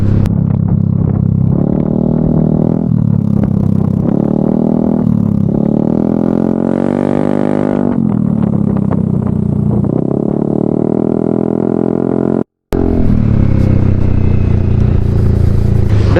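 Yamaha Aerox scooter fitted with a Krace Ultra exhaust revs repeatedly, engine note rising and falling in loud close-up bursts, with one long climbing rev, a sudden cutoff, then idle rumble returning.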